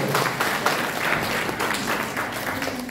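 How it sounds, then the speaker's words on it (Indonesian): An audience of around 130 participants at an event in Jogja gives the organising committee a steady round of applause, dense and even throughout the short stretch. "Tepuk tangan untuk panitia"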